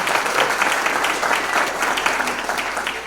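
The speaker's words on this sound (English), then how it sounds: "I can ask you to hold your applause till the end" Audience applause at a Chabad of Pasadena gathering honoring a Holocaust survivor: a dense, steady wash of many hands clapping, fairly loud and even for the whole stretch.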